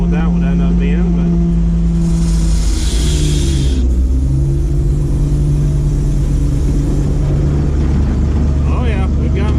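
A Ford F700 salt spreader truck runs its web chain, a steady low mechanical drone and rumble throughout with a brief hissing burst partway, loud and close, with people talking over it.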